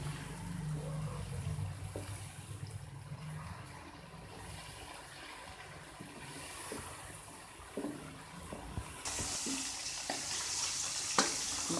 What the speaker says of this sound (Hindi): अब गोभी डालेंगे इसमें। इसे अच्छी तरह मिक्स करेंगे।